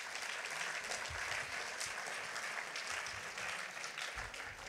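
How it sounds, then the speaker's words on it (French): Congress hall audience applauds young campaigners, a broad, sustained roll of many clapping hands at an even level from start to finish. "je pense aussi qu'on peut applaudir ces jeunes qui sont engagés dans ces campagnes-là"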